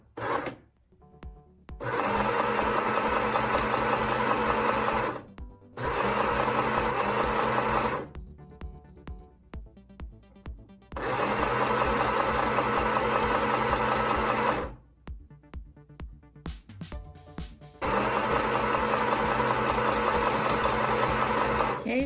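A sewing machine stitches a fabric face mask in close, loud bursts of rapid whirring, several runs of a few seconds each broken by short pauses.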